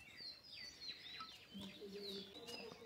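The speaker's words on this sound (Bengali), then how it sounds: "চার সাইড থেকে খালি পাখির কিচিরমিচির ডাক।" Faint morning birdsong over farmland near jujube trees: scattered high chirps and whistled sweeps from several birds at a distance, with a soft background hum.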